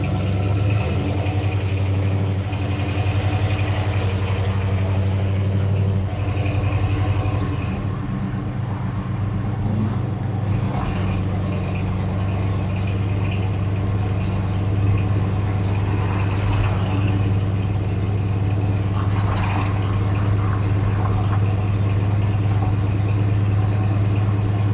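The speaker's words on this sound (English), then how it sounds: "you can just listen to the engine sounds that are hopefully recording pretty well" A 1972 Ford Ranchero GT cruises downtown, its engine holding a steady, deep rumble close by for the whole stretch with only slight swells, and no one talking.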